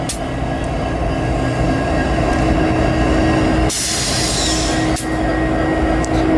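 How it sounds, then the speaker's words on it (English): A long Canadian National freight train rolls in, loud and close, a continuous rumble of railcars with steady wheel noise and a brief brighter screech partway through. "Train came in this afternoon."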